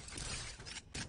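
Turret being deployed in Valorant, a quiet burst of mechanical clicking and ratcheting with gear-like whirs, then a sharp metallic snap near the end as it locks into place.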